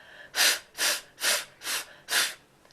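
Five evenly spaced breathy bursts, each a voiced lip pop blending into a hissing F, made by a mouth imitating a snare drum.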